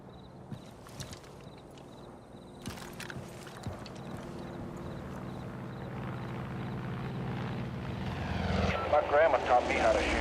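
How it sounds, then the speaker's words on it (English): A helicopter in the video game Far Cry 5 flies nearby, its rotor and engine drone building steadily and growing louder toward the end with rhythmic blade chop, under intermittent game sounds and voices. "Follow that chopper to Boyd's house."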